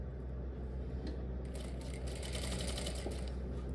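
A sewing machine runs steadily while stitching a formal pant, a continuous close mechanical whir with a fast, even needle rhythm and no pauses.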